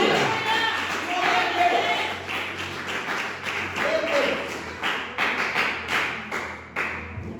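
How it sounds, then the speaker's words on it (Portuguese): Family service congregation in church applauding, dense rhythmic clapping from a crowd with some thumps, filling a reverberant room, continuing steadily for several seconds. "Aplauda o Senhor Jesus"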